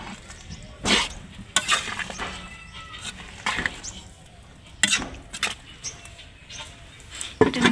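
Fish curry with potato, eggplant and drumstick being stirred in a pot on a newly built clay stove, giving intermittent scraping clatters and sizzling bursts at close range, with faint background voices.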